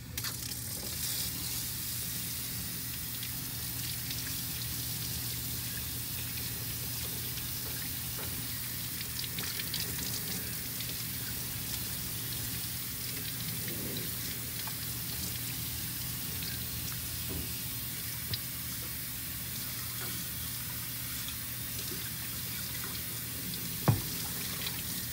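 Running tap water streams steadily over a dusty ceramic project coated in clay residue, a continuous, even splashing hiss lasting the whole stretch with a few brief knocks and clinks.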